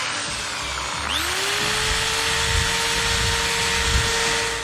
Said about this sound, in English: I've got a little bit more control over the drill